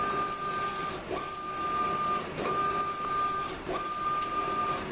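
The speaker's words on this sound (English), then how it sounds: "we can see that we have a good functioning scan motor or Y motor" Printer scan motor (Y servo) carriage running: a smooth whirring motor with a steady tonal whine, sweeping back and forth in repeated passes about every 1.3 seconds, moderately loud and close.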